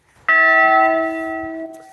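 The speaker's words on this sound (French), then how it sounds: "on va avancer parce que ça sonne" A church bell in a Québec village strikes once with a sharp attack, then rings out in a sustained, slowly fading tone, close and loud.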